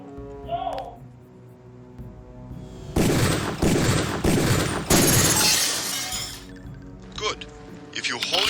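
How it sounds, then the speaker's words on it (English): Pistol gunfire at range targets in the game Deus Ex: a rapid string of loud cracking shots with shattering debris in two bursts, followed by scattered smaller breaks, with faint speech beforehand. "Release the first target and take a few shots with one of the pistols until it is destroyed."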